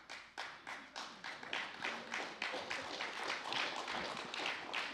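Audience at a UK reparations conference clapping, a quiet, steady patter of many hands that builds slightly, heard from a distance with no one talking over it.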